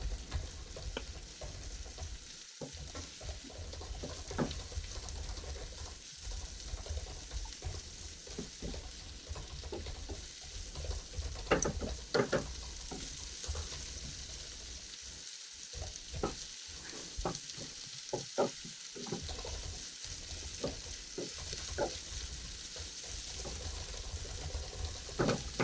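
Peppers fry and hiss in a pan with a continuous sizzle, broken by repeated scraping and clattering stirs that come in irregular bursts at moderate, close range.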